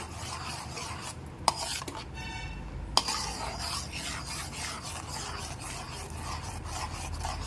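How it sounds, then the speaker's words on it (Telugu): A spoon stirs coconut milk in a pan while making coconut barfi, giving a quiet steady scraping and rubbing with a couple of faint metallic clinks. "కొబ్బరి పాలని ఇలా కలుపుకుంటూ ఉండండి."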